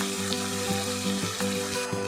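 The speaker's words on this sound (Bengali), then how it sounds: "দিয়ে এটিকে আবার ভালো করে ভেজে নেব যতক্ষণ পর্যন্ত টমেটোটি গলে না যায়" Chopped tomato frying in a pan for a soybean curry, a close, steady sizzle broken by a few soft stirring scrapes and clicks, with no talking.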